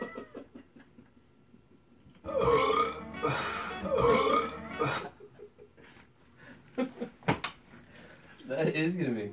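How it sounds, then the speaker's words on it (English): A loud, drawn-out burp rumbles over several seconds in a jazz studio, followed by short clicks and a second, shorter belch-like sound near the end, with no talk over it. "Burp."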